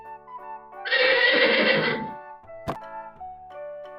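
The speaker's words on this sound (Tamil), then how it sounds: "குதிரை" A horse gives one loud, drawn-out whinny lasting about a second, close by, over a steady backdrop of soft musical tones, followed by a sharp click.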